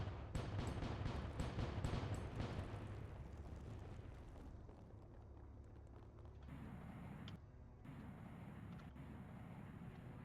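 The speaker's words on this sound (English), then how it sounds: "Aye, we can clear the path using our cannons." Ship cannons in the video game Void Sails fire at cracked rocks: a rapid burst of loud booming shots in the first seconds, then rumbling debris and a low roar of water and wind.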